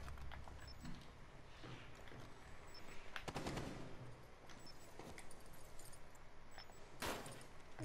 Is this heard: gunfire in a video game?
yes